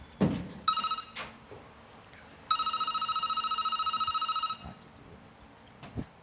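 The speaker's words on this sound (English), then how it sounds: "you don't hear the phone ring" A telephone rings: a short electronic trill, then a longer sustained ringing burst, clear and mid-distance, with scattered knocks and faint background noise around it.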